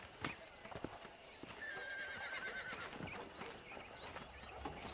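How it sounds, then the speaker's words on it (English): Horses in the Red Dead Redemption video game on Xbox 360, with hooves clip-clopping throughout and one clear, drawn-out whinny in the middle, set against a steady outdoor ambience. "Let's see if we can't wrangle some horses."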